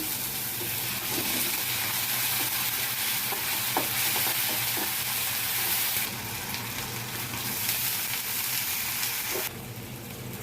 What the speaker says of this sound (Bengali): পেঁয়াজটা লাল লাল করে ভেজে এখন সামান্য রসুন বাটা দিয়ে দিলাম।